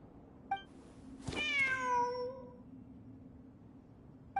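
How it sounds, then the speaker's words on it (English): A cat meows once in Genshin Impact, a clear, drawn-out falling meow preceded by a soft chirp, moderately close over a quiet background. "Wait, there it is! The cat!"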